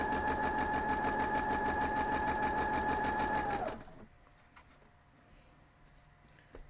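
A sewing machine stitching cotton quilt pieces runs steadily with a rapid mechanical whir, then stops abruptly partway through, leaving quiet background.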